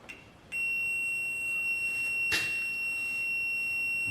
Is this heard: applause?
no